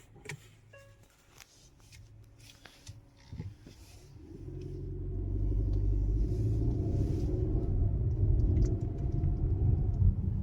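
Cabin of a 2024 Hyundai Santa Fe Limited SUV setting off, with a few soft clicks and shuffles before a low engine and road rumble swells after a few seconds and holds steady, quiet and muffled.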